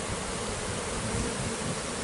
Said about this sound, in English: Too many bees.